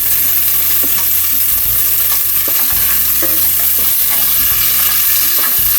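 Haitian rice and black beans fry in a pot with a loud, steady, close sizzle and crackle. Low scraping and stirring bumps run underneath throughout.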